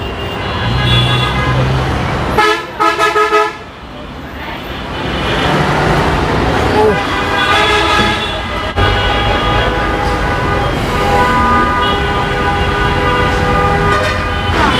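Heavy road traffic passes beneath a bridge as a bus goes by, with a loud rumble, bursts of repeated horn toots near the start and a sustained honk later, close and continuous.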